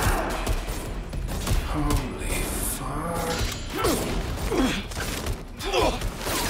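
Bursts of gunfire in the video game Watch Dogs Legion, broken and mechanical, mixed with thuds and clanks while people speak over the fight.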